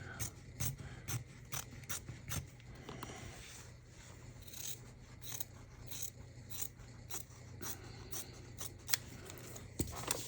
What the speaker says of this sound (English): We're gonna use scissors. We're gonna cut